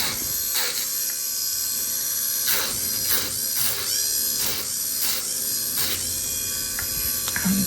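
An electric nail drill files polygel off fingernails at home, heard as a close, high-pitched whirring buzz that rises and dips in repeated short passes over a steady motor hum, with no talk.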